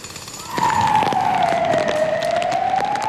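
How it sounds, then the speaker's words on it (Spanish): Fire brigade and local police sirens wail together in a city street, one tone sweeping slowly down then rising again, steady and fairly loud over sharp bangs and traffic noise. "Sirena de los bomberos y la policía local."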